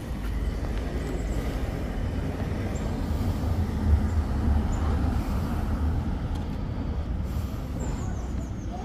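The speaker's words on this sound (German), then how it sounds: "Da kommt die Straßenbahn schon." Straßenbahn tram pulling in at a stop in Würzburg, a steady low rumble and rolling rail noise with faint squeals, heard alone on a hot day.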